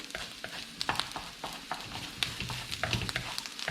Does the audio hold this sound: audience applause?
no